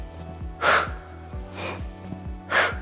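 Breathing during a pilates double leg stretch, three strong audible exhales spaced about a second apart, close to the listener, over soft rhythmic background music.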